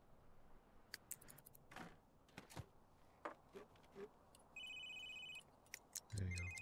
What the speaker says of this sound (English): His cell phone was ringing?